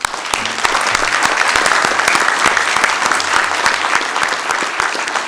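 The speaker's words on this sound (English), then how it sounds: "let's give a big round of applause" Big round of applause at a Sacramento City Council meeting for an Air Force ROTC color guard unit from Hiram Johnson High School, steady loud clapping from a roomful of people filling the moment with no talk.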